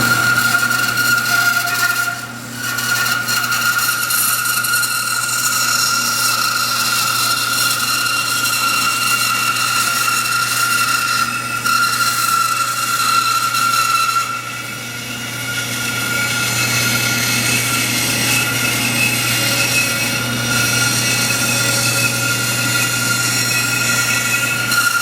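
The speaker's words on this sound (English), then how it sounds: "we'll go over to the bandsaw, and we'll chop those off" A bandsaw cuts pieces off a workpiece, giving a steady, loud motor hum and whine that runs continuously, with a couple of brief dips where the cut eases off. No voices are heard.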